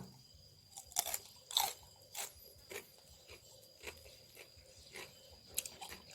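Raw shrimp are crunched and chewed close up, a series of crisp bites and wet crackles at an uneven pace, fairly quiet with no talking.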